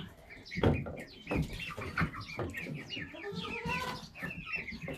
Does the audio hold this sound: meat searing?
no